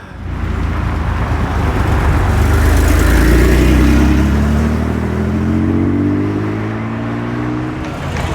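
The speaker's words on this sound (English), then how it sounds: "that Ford Cortina drives off" A classic Ford Cortina pulls away from a Cars & Coffee meet in Limerick. Its mid-pitched engine grows louder and revs as it accelerates, holds a steady drone, then slowly fades into the distance.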